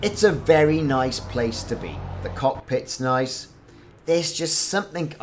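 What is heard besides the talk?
No everyday noises stand out.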